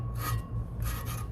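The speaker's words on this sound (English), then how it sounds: "We're gonna use the tool to tighten her down." A tool works on a Volvo Penta Duoprop drive part, making close rasping, grinding rubs in two bursts over a low steady hum.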